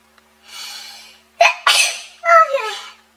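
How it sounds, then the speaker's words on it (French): A person sneezes close up: a soft inhale, then sharp, loud bursts of breath within a few seconds. "je vais éternuer."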